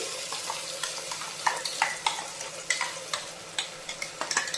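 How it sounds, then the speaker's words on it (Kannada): Masala paste sizzles in hot oil in a pan for mushroom dum biryani, a close, steady frying hiss punctuated by repeated sharp scraping strokes of a spoon stirring the paste. "ಈಗ ನಮಗೆ ಇದು ಎಣ್ಣೆಯಲ್ಲಿ ಮಸಾಲೆ ಫ್ರೈ ಆಗಬೇಕು"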